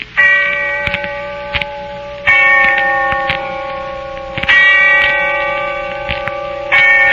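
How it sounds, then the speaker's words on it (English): A distant church bell tolls slowly in a radio drama, each resonant strike ringing out and fading before the next, heard alone without speech. "when I heard the bell tolling somewhere in the distance, I remembered"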